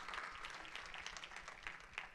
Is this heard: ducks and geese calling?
no